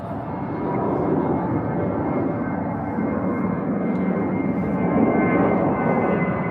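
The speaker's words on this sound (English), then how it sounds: "British Airways A320 here, taking off to Inverness" British Airways Airbus A320 taking off from London Heathrow bound for Inverness, a steady, even jet engine roar at moderate distance, no talk.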